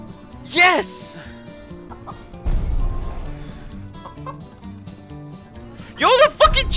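A chicken in the video game ALTF4 clucks in short squawking bursts at the start and end, with game music and noise in between and a voice talking over it.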